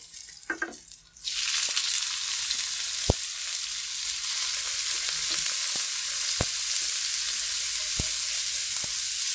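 Vegan snails dropped into a pan of golden garlic and shallots, bursting into a loud, steady broadband sizzle after a short quiet start, with a few sharp clinks of a utensil against the pan.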